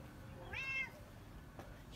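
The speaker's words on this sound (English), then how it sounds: "my cat's going mental over there" A house cat meows once in the middle distance, a rising then falling cry lasting about half a second, heard over quiet room noise with no talking.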